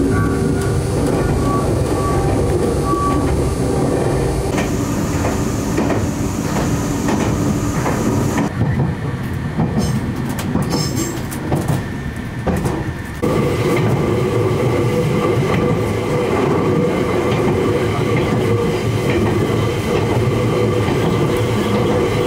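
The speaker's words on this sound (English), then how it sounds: "This train is the limited express Yukemori," A Nagano Dentetsu limited express Yukemori train, bound for Yudanaka, runs close by with a loud, continuous rumble and rhythmic wheel clatter, the noise swelling and easing as carriages pass.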